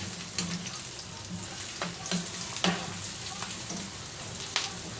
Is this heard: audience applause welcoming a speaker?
no